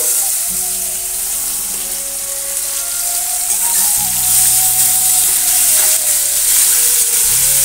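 Boiled taro stolons sizzle and fry in a hot pan, a steady close crackling hiss that continues throughout with no voices.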